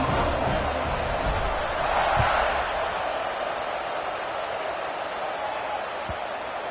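A football stadium crowd at kickoff during a Vanderbilt versus BYU game, a broad, steady roar of cheering spectators, moderately loud and distant, with faint thuds under it.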